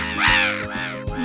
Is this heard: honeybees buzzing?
no